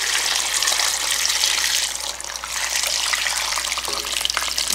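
Cooled brine from traditional Korean pickled cucumbers (oiji) is poured back into a jar, a steady close gush and splash with a brief lull partway through.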